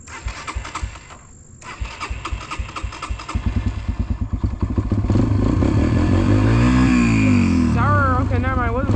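A dirt bike engine clatters through cranking attempts, then catches and roars into a loud, steady run close by, revving as it settles, with a voice briefly heard over it near the end.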